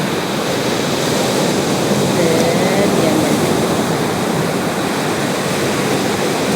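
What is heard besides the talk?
strong ocean waves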